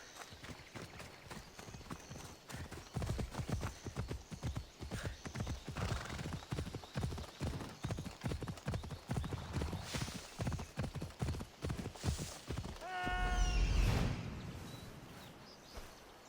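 Steady, rapid hoofbeats clip-clop throughout in the video game Assassin's Creed Odyssey, with a horse whinnying loudly near the end.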